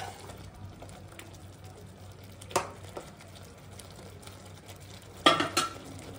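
Fried paneer pieces are stirred into a curry in a pan with a spoon, giving a faint, steady scraping and stirring. Two brief, louder scrapes or clinks stand out.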